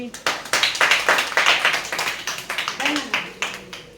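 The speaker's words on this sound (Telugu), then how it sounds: "చప్పట్లు కొట్టరేంటి?" Several people clap their hands in a quick, uneven burst lasting a few seconds, fairly close, with a voice speaking over part of the applause.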